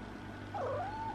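A cat gives a single drawn-out, wavering meow at close range, quiet against a faint steady background hum.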